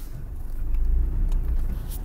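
An idling Mazda Protege5 engine gives a low, close rumble with a faint irregular ticking noise layered on top across a couple of seconds, with no talk.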